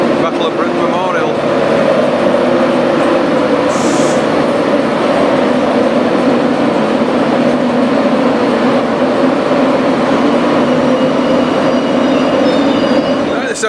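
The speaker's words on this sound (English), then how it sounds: "This is our next train, the 9:24 from here to York." A Northern service train rumbles steadily into a station, a loud continuous roar of wheels and engine with a brief high squeal partway through.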